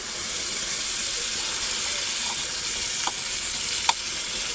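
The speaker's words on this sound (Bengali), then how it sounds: "এবার এই আলুর সাথে টমেটোটার সাথে ভালো করে কষিয়ে নিতে হবে" Potatoes and tomato sautéing in spices for a bhola fish curry, with a loud, steady close-up sizzle and a couple of sharp stirring clicks near the end; nobody speaks.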